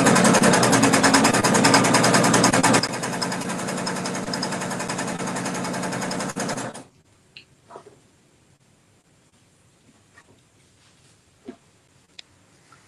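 A sewing machine chain-stitches strips for rainbow weave placemats, running loud and steady for about seven seconds, easing slightly partway through, then stopping, leaving a near-quiet stretch with a few faint clicks and taps.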